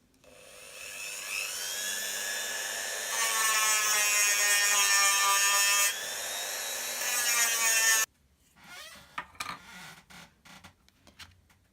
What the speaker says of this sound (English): I'm going to start it off with my Dremel with a sandpaper attachment, just to take the worst of it off